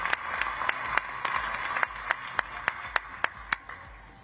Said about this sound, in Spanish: Un aplauso fuerte para ellos